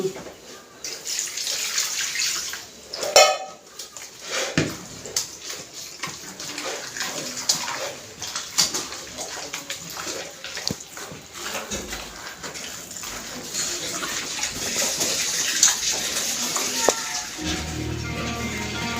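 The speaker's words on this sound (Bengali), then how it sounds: "মাঝখানে দুটো মাংস এবার ছাড় দিয়ে এবার জল দিয়ে" Water pours from a tap into a cooking pot holding pieces of meat, a steady splashing and running stream that continues close by for the whole stretch with a few clatters along the way.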